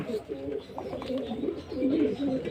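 Soft, throaty pigeon coos repeat in overlapping bursts, close and fairly quiet, with several birds calling at once.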